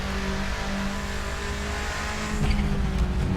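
A 1995 Subaru Impreza WRX STI engine in the Assetto Corsa racing game pulls hard in second gear, a steady loud turbocharged drone that swells slightly toward the end, with no talk over it.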